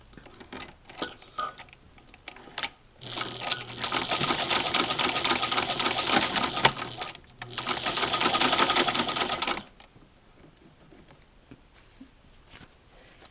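A Singer 15-88 electric sewing machine stitches fabric in two fast, loud bursts of rapid mechanical chatter, separated by a brief pause, with quiet handling clicks before and after.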